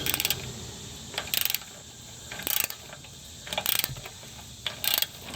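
Ratchet wrench with a swivel and 16 mm socket working an engine bolt on a 2016 Dodge Charger R/T 5.7L Hemi, heard as about five short bursts of rapid clicking separated by pauses, fairly close.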